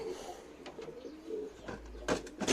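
Soft pigeon cooing close by, low and rhythmic, with a few faint rustles and bumps; fairly quiet overall.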